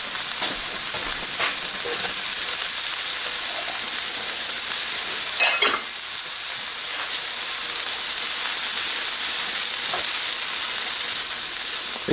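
Corn sizzles in a skillet of fried rice, a loud continuous hiss of frying with a few faint scrapes of stirring, close and steady throughout.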